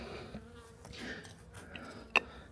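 Honeybees on six frames inside a heated hive in winter give a faint, low, steady buzz, with one sharp click near the end.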